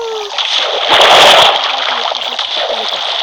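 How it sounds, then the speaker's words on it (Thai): In a video game, a character falls into water with a loud, close splash and sloshing that swells and then fades. Game sounds continue underneath. "ช่วยด้วยตกน้ำ"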